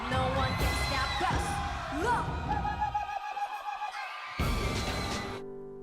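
A K-pop group performs a Native American-style war cry chant on stage: loud whooping and yelling voices over music and crowd noise, briefly dropping away near the middle before surging back.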